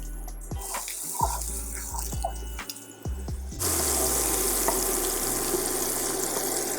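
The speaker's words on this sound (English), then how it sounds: "now that my skillet has been heating up a little bit, let's go ahead and add our 3 tablespoons of butter" Three tablespoons of butter dropped into a preheated skillet, a few knocks and clatters before a sudden, steady hiss of melting, sizzling fat takes over and holds.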